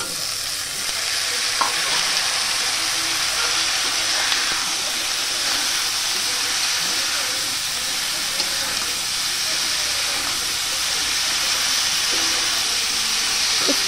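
Ridge gourd pieces added to hot oil already seasoned with turmeric and salt, a continuous loud sizzle and hiss with occasional stirring scrapes, close and steady throughout.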